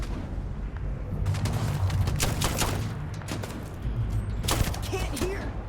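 Rapid gunfire in a Starfield firefight, with dense bursts of shots and bangs through most of the clip under shouting voices.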